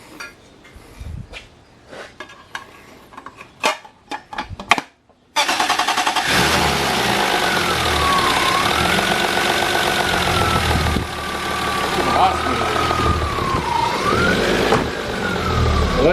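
A BMW 318i fitted with E36 M3 camshafts starts up after a few clicks and cranks, then idles and revs with a loud, steady ticking lifter clatter running throughout.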